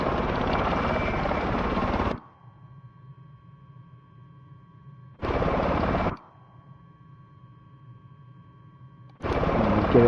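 Miltech Solutions Osprey helicopter in a flight simulator game, heard as loud bursts of whirring rotor and engine noise that cut to a quiet low hum with a steady tone, then return twice.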